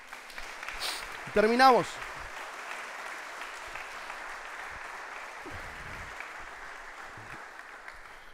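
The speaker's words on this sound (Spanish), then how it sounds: "Dale un fuerte aplauso al Señor." Steady congregational applause for the Lord at the end of a Spanish-language church sermon, continuing as a soft, even wash. A brief spoken phrase interrupts it early on.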